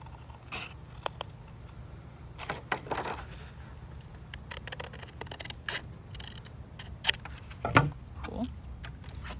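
Scissors cut through paper for a one-page pen pal folder. Faint, irregular snips and crisp rustles sit over a low room hum, with a few sharper clicks toward the end.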